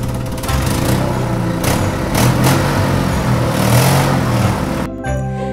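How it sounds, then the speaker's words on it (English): A toy truck's engine motors steadily toward listeners in a Peppa Pig toy story, a loud, continuous droning rumble that swells slightly midway, then drops away near the end. "very soon they could hear his truck motoring towards them"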